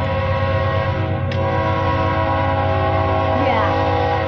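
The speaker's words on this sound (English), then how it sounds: "here comes a train" A loud train rumbles steadily past, its horn sounding briefly partway through, with no one speaking.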